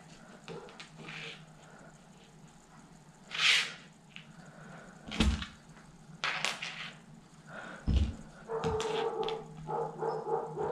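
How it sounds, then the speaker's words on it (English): A neighbour's dog barks in a few separate sharp bursts, moderately near but somewhat muffled, in a quiet indoor room where a chest of drawers is being assembled, with faint handling noises between barks. "Sorry about the dog next door."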